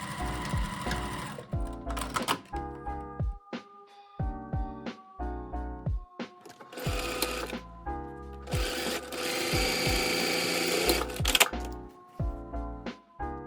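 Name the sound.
sewing machine stitching fabric pouch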